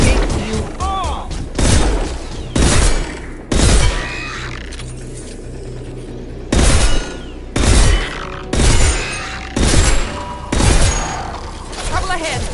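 Bursts of gunfire in a Mass Effect 2 firefight, with several loud broadband volleys spaced through the passage against a busy game backdrop and some voices.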